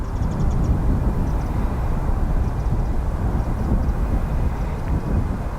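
A British Airways Embraer jet at Dublin Airport gives a steady, loud broadband roar that holds evenly throughout, with gusty wind buffeting the microphone.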